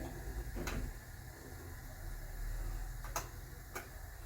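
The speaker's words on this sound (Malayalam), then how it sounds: "കടുക് പൊട്ടി വരുന്നുണ്ട്" Mustard seeds splutter in hot oil in a pan on the stove, three or four sharp isolated pops spaced unevenly over a low, constant background hiss.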